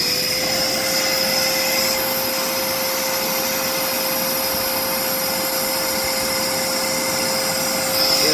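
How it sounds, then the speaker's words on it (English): A Dirt Devil Powermax Pet vacuum cleaner runs with a steady, loud motor whine and a constant high tone, holding unchanged for the whole stretch without any talk. "This vacuum stinks."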